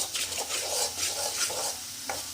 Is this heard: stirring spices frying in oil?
yes